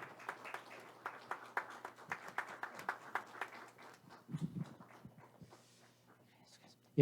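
Applause from a congregation at a church ordination service, a steady patter of many hands clapping that thins and fades out, with faint voices underneath.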